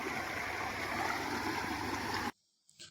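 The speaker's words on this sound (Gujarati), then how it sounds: "કુદરતી નેચરલ પાણી જમીનના અંદરથી હેડ્યું આવે" Natural groundwater gushes from a farm borewell on a wheat field, a steady, close rushing pour that cuts off abruptly near the end.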